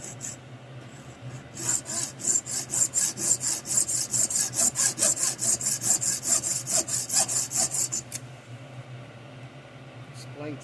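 Hand saw cutting a model-engineering part to size, with about twenty steady rhythmic back-and-forth strokes at close range that stop abruptly, followed by quiet shop ambience.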